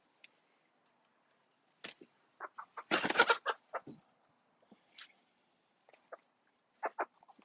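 A chicken clucks in short bursts and scattered single notes, fairly close and clear against a quiet background, with one louder squawking flurry near the middle.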